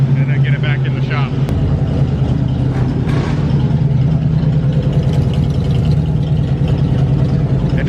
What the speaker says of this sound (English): I'm gonna take it for a little ride and then get it back in the shop.